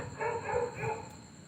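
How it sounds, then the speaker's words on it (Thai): A dog gives three quick barks close by, evenly spaced over a second and a half, fairly faint against a quiet background with no talk. "หมาก็เห่าจ้า"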